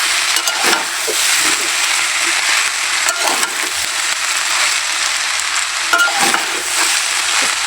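Five potatoes poured into a hot pan set off a loud, steady frying sizzle that runs the whole time, with occasional stirring scrapes and crackles rising above it.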